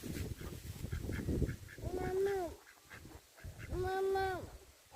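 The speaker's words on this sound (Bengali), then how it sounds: "এখানে অনেকগুলো হাঁস গোসল করে বসে আছে, রোদ পোহাচ্ছে" Ducks bathing in a village pond give loud, repeated nasal quacks in two long bursts, with splashing and rustling between them and faint background voices.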